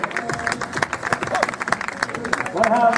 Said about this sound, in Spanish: Un aplauso para estos 5